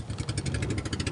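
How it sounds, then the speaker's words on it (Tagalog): Boat engine running steadily, a mid-pitched mechanical drone with a fast pulsing chug throughout, fairly close and continuous, no talking. "mandar na yung makina"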